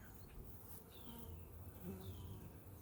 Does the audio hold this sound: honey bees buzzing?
yes